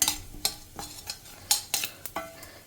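Lentils and asafoetida stirred in a hot pan for appe huli saaru: a series of sharp, separate spoon scrapes and clinks against the metal, close up with quiet gaps between strokes.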